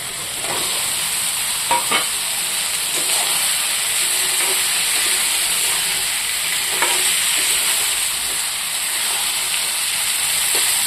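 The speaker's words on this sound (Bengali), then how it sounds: "এখন আমি সবজি ছেড়ে দেবো, এই যে কাটা কাটা।" Chopped vegetables fry in spiced oil for a fish curry, a strong, continuous sizzle close by with occasional stirring clinks and scrapes and no voices.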